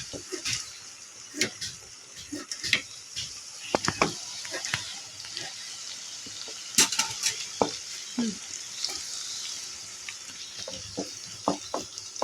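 Small shallots for a crab gravy sauté in a pan, a soft sizzle running underneath irregular scrapes and clinks of a spoon being stirred through them, close up and fairly quiet.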